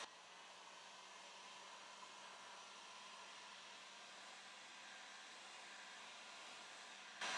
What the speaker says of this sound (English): I'm going to hit this with a heat gun and dry this.